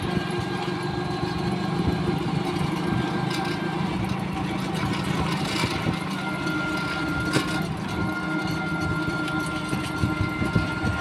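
A motorcycle engine hums steadily while riding along a rural road toward the mountains of Tanay, Rizal, with continuous drone, wind rush and road noise throughout, moderately loud and close, with faint speech mixed in.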